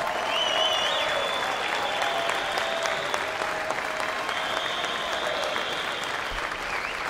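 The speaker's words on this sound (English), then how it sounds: "please rise and give them a great big hug and a round of applause" Sustained audience applause fills a swimming championship pool venue, a dense steady wash of clapping with a few whistles and cheers rising over it, loud and continuous throughout.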